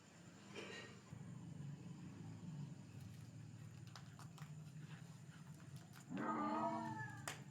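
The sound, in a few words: black cat yowling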